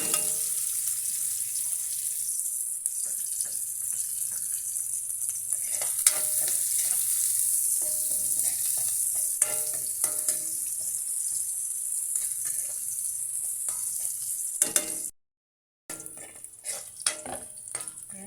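Garlic and onion fry together in a pan for chicken curry, with a dense, steady sizzle and hiss close by, occasional stirring clicks, and a brief silent gap near the end.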